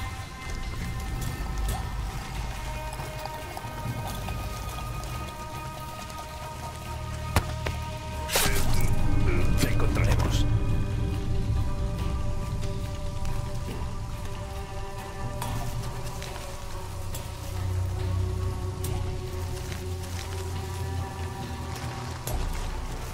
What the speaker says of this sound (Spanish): Esta lluvia no es natural.